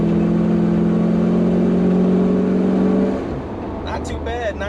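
A 1962 Chevrolet Impala, all original, pulls hard at full throttle with a loud, steady harmonic engine drone that cuts off after about three seconds, followed by quieter road noise and someone talking.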